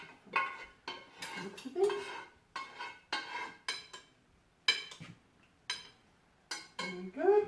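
Gnocchi being stirred in a pan produces a run of sharp clinks and scrapes of utensil against pan, spaced irregularly every half second or so, close and fairly loud, with brief quiet speech between them.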